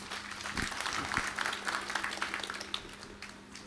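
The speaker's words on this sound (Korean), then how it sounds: "여러분 박수 한번 부탁드립니다." Audience applause at a regional disaster-response drill ceremony held at an E-Mart store in Andong, a steady wash of clapping over a low hum, with some voices mixed in.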